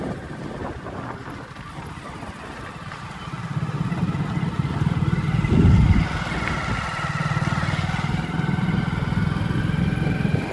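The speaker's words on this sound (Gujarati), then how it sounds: "બાઇક લઈને નીકળી ગયો છું." A motorcycle rides along a village main road past maize fields, its engine a steady close drone with wind buffeting the microphone, swelling louder midway before settling back to an even hum.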